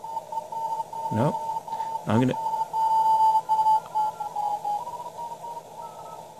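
Morse code tones received on a radio and decoded through a PK-232 modem, a steady stream of short and long beeps at one pitch, with a person briefly speaking over them.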